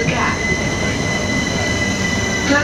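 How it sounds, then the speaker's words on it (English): Southern passenger train arriving at a Clapham Junction platform, a loud close rumble of wheels on rails with a sustained high squeal of braking wheels. "The train now approaching platform 13 is the 1723 Southern service to Littlehampton and Eastbourne."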